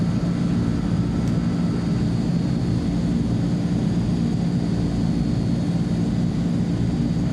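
Turboprop engines of an Azurpoly C-160 transport aircraft run at takeoff power in MSFS 2020, a steady, loud low-pitched drone with a constant whine on top, unbroken and without talk.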